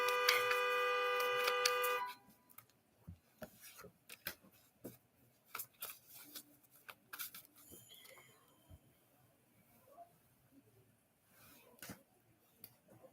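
A car horn sounds outside as one sustained honk lasting about two seconds, followed by faint scattered ticks and rustles in a quiet room.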